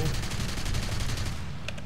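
Aircraft machine guns firing in the air-combat game War Thunder, a rapid rhythmic stream of closely spaced shots forming one sustained burst at moderate loudness, with no talk.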